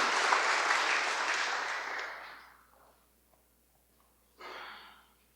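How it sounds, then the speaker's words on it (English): Full audience applause honoring veteran leaders at a Monterey County fallen heroes event, dense clapping that fades out over a couple of seconds, then a short fresh burst of claps after a quiet gap. "Let's give them a round of applause, everybody, to these veteran heroes"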